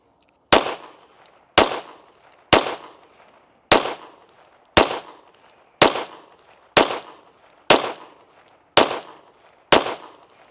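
Ten sharp, loud gunshots from a pistol fitted with a Cyelee Wolf X Pro red-dot sight, fired singly at a target at an even pace about one second apart, each followed by a short echoing decay.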